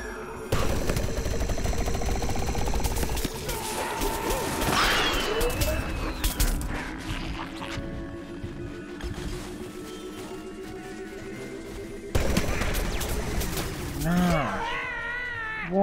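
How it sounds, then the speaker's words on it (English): Rapid bursts of gunfire from the video game Plants vs. Zombies Garden Warfare 2, with loud, dense shots, impacts and game effects layered throughout over a steady electronic background. "Where am I being shot from?"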